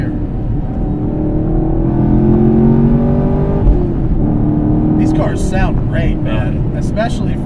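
A supercharged 2016 Camaro SS engine in track mode drones loudly and steadily from inside the cabin, its tone rising and shifting as the throttle changes, while someone talks over it toward the end.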